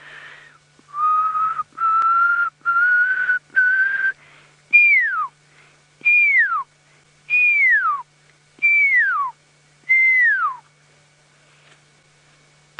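A person whistles an imitation of a pearl-spotted owlet call: several short rising tones, then five drawn-out falling whistles evenly spaced, clear and close with no other sound.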